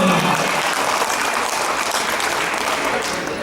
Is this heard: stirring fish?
no